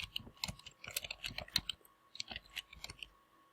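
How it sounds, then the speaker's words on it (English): Quick bursts of computer keyboard typing, crisp close key clicks in uneven clusters with short pauses between runs. "type your notes about what was spoken regarding this student"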